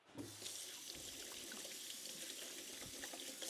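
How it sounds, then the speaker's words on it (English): Tap water runs steadily into a sink as hands are rinsed off in a home kitchen after handling chocolate sourdough dough, giving a continuous close splashing hiss with small shifts as the hands move and no talk. "Rinse off the hands real quick"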